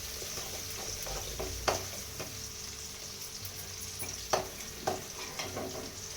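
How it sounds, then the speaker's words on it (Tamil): Onions sautéing in a pan for a home-cooked fish curry give a steady soft sizzle with occasional sharper stirring scrapes, close and moderately quiet, with no talking. "வெங்காயம் வதங்குது."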